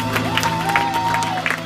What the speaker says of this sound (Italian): Facciamo un applauso agli sposi, grazie.